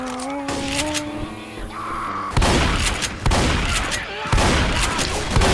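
Bursts of gunfire in Left 4 Dead 2, several loud, harsh shots and rapid volleys hitting in clusters, close and dominant, with in-game tones and mechanical noises between the blasts.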